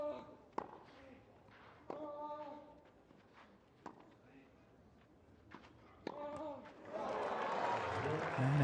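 At the 2017 Marrakech tennis final between Ćorić and Kohlschreiber, sharp racket strikes pop every couple of seconds over a quiet crowd, then applause swells loudly near the end.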